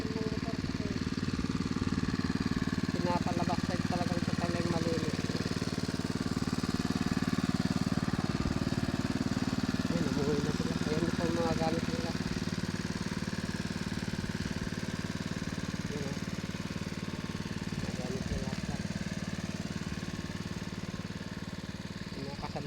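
A motor drives a water pump on a hand-dug well, holding a steady, rough mid-pitched drone for the whole stretch, with brief faint voices surfacing now and then.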